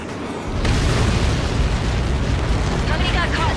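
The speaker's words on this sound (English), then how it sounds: "How many got caught in that explosion?" A missile impact in the Ace Combat 7 video game bursts into a sustained, roaring explosion that swells suddenly and keeps rumbling loudly, with a voice faintly under the blast.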